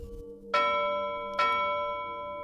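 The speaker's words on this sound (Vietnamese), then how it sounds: "Lá phù phát ra ba tiếng chuông ngân to lớn" A deep, resonant bell rings out as a talisman sound effect: two loud strikes about a second apart, each followed by a long humming decay, with no other sound.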